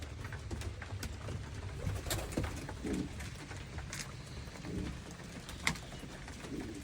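Pigeons or doves beside newly hatched chicks give soft, low repeated coos at close range against a quiet background, with a few faint brief clicks and rustles.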